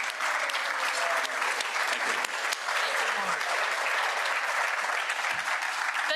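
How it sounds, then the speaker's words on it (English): A crowd at a Rotary club meeting gives a big round of applause for guests, with dense, continuous clapping at a steady level all the way through. "let's give them a big round of applause."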